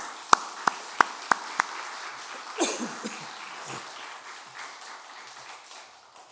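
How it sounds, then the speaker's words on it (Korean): Members of a church congregation at a Sunday service clap in a few sharp, evenly spaced claps, then the sound fades into soft murmuring and rustling. "그 도구로 사용된 우리 한나 여전도를 위해서 크게 박수로 축복하겠습니다."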